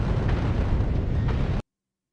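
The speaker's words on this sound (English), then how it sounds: "Look how much shooting is happening." Heavy gunfire and explosions rage in a bullet hell video game as a loud, dense, continuous roar of blasts and bursts that cuts off abruptly after about a second and a half.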